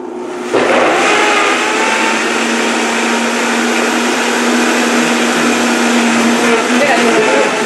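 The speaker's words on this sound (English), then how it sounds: "We're using a Vitamix today. And we're going to blend this." A Vitamix blender starts up and runs loud and steady, whirring through a chunky ice cream mixture with butter in it, one continuous motor roar from start to end.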